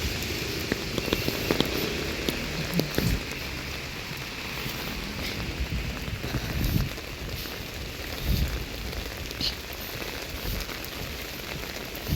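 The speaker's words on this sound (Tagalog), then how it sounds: "umuulan siya, may ang lakas ng ulan unlike sa Poland" Heavy rain pours down steadily in Spain, a dense hiss of drops hitting surfaces close by, with a few louder splatters and no voices.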